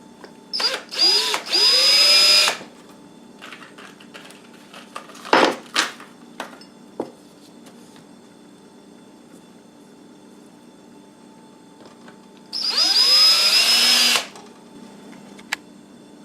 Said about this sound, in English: I'm just gonna screw them in real light.